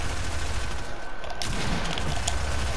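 Dense, continuous video game gunfire fills the whole stretch, a loud, rapid volley with a few sharper cracks standing out.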